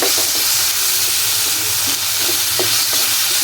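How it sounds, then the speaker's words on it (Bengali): Potato and carrot frying in a pan with meat for a quick vegetable fry, a steady loud sizzle with occasional stirring scrapes, no talking. "এখন আলুটা গাজরটা দিয়ে দিব এটা এখন একটু ভেজে নেব"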